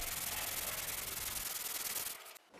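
Steady, close scratchy rubbing of sandpaper on a wooden guitar neck in fast even strokes, stopping abruptly near the end.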